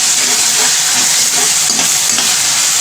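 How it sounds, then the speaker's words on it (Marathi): Ginger, garlic and green chilli paste sizzles and fries steadily in a pan with reddened onion, a dense continuous hiss with faint stirring scrapes, close and loud with no talking. "2 चमच आलं लसूण आणि मिरचीची पेस्ट, ती पण चांगली"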